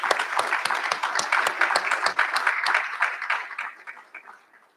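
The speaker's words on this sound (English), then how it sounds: "So let's give them another round of applause." Applause from the audience at a college graduation recognition ceremony, crisp individual claps clearly audible in a lively burst that thins out and fades over the final second or two.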